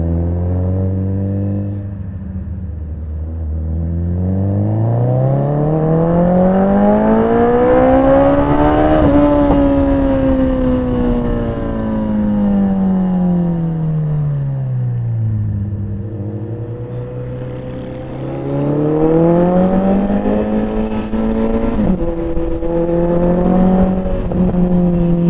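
A Royal Enfield Continental GT 650 motorcycle with a loud exhaust roars up close, rising through the revs and shifting gears repeatedly, its throaty engine note climbing and falling in long sweeps.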